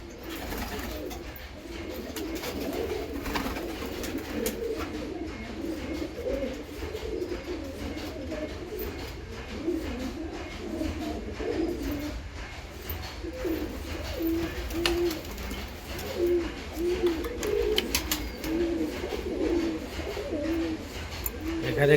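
Rampuri pigeons in a breeding loft coo softly and repeatedly, overlapping one another in a close, continuous murmur with faint background noise.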